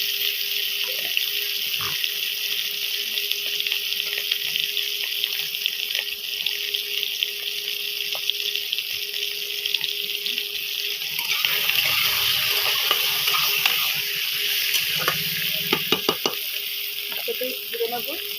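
A kitchen tap runs steadily for washing while chicken and potatoes are being prepared, with a constant hiss of water and scattered clatters and splashes from dishes in the sink.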